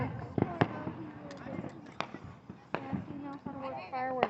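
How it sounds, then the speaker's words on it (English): Fireworks at a July 4th family gathering, heard as several sharp pops and bangs scattered through the clip under close, continuous conversation. "He knows how to work fireworks."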